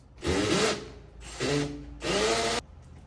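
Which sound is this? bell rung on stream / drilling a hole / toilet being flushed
drilling a hole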